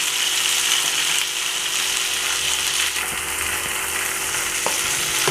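Red amaranth greens and stems, seasoned with salt and turmeric, sizzle loudly in a pan while being stirred, with a steady hiss and occasional scraping clicks close by.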